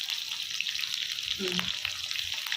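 Onions and curry leaves sizzle steadily in hot oil, a dense, even crackle that fills the whole stretch, with a brief stir partway through.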